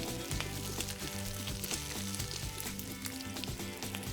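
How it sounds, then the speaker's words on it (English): Vegetables sizzle steadily in a hot frying pan while a chef cooks an onion and cabbage cake, a continuous loud crackling hiss that runs throughout with brief clatters of stirring. "You really want to hear that perfect sizzle that goes in the pan"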